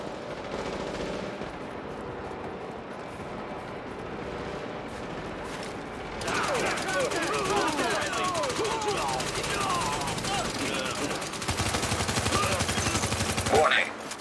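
Gunfire crackles in the shooter game The Division, with steady background combat noise at first, then denser rapid bursts of shots and impacts in the second half, fairly loud and continuous.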